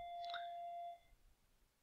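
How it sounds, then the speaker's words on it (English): An electronic school bell chimes at the start of the school day, a single bright, sustained ringing tone that holds for about a second and then cuts off, leaving a quiet room. "Sorry about that bell. It's the start of the school day."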